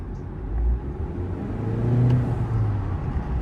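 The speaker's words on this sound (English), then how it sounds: "I did want to give you guys a little POV drive so that you guys can hear the turbos" Engine of a 2024 Honda Accord EX accelerating on the road, heard from inside the cabin: a steady low rumble and whir that swells gently, with no talking.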